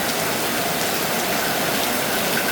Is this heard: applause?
no